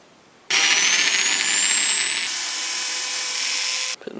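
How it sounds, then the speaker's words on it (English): An electric drill bores a hole for a screw while a fume hood is assembled, a loud steady whine running about three and a half seconds, its pitch dropping slightly partway through before cutting off. "we're going to drill a hole and put a screw in"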